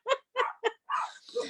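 Dogs indoors give a few short, soft barks and yips in quick bursts, faint and somewhat distant behind a home video call.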